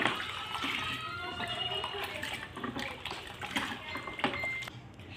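Medicine being stirred into a bucket of plain water for a chicken vaccine gives soft, continuous sloshing and swirling with small clinks, faint and unbroken over the whole stretch, with low talk buried beneath it.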